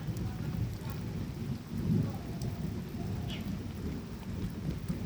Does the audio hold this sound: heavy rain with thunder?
yes